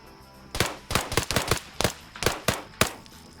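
Gunfire in a military PvP video game match between US Army and US Marines, a string of about a dozen sharp irregular shots in quick clusters, moderately loud and close.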